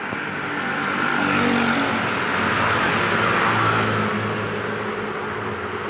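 A bus approaches along a road at night in cool weather, a steady broadband engine and tyre rumble rising slightly and holding loud and close for several seconds with no talk over it.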